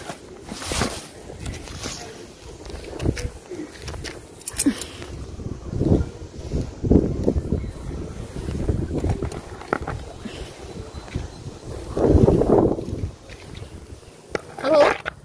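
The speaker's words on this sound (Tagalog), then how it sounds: "Lakas ang hangin, malamig." Strong, cold wind gusts outdoors in front of a house, rumbling and buffeting the microphone in uneven surges over several seconds, with a person's voice faintly in the background.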